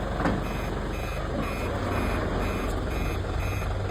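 Reverse warning beeper of a truck backing up, sounding in a steady repeating series of short electronic tones over constant engine rumble, with no voices.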